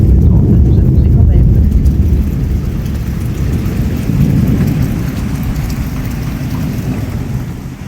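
A night thunderstorm arrives at a tuning meet in Dienville, with loud steady rain and deep rolling thunder that swells and then fades, and a voice talking underneath.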